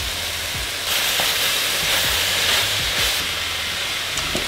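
Broccoli goes into a hot wok for a quick stir-fry, setting off a loud, continuous hissing sizzle that swells after the first second and holds steady throughout.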